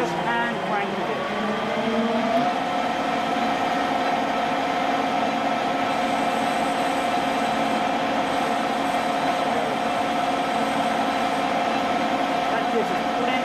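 A lathe turns the outside diameter of a piston, giving a loud, steady drone with a sustained tonal whine and gliding pitch near the start, continuous and close throughout.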